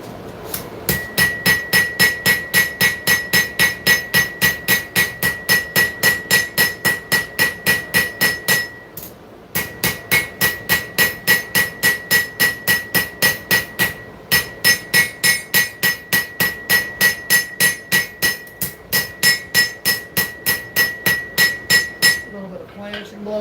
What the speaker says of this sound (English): Planishing blows there